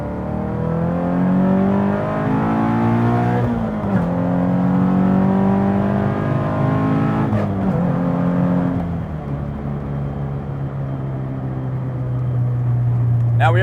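A Subaru BRZ / Scion FR-S sports car accelerates hard through the gears from inside the cabin, its engine note climbing loudly in rising sweeps that break at each shift, with continuous droning road noise beneath.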